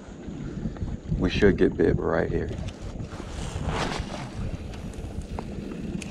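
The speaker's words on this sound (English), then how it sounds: "Sorry about the wind." Wind buffets the microphone on a fishing boat near a bridge over summer water, a constant rushing roar throughout with someone speaking briefly over it.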